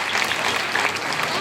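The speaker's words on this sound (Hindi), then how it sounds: "तो एक बार आप सब तालियां अपने आप के लिए बजा लीजिए प्लीज।" Audience applause at a political gathering, a dense steady wash of many hands clapping for about a second and a half, loud and even throughout.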